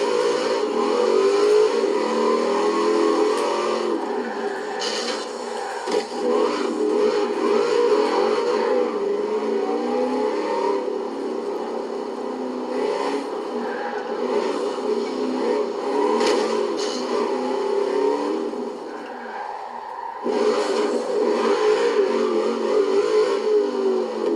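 A Corvette V8 in the video game Forza Horizon 4 revs hard and continuously, its engine note rising and falling through gear changes with a sustained loud roar throughout.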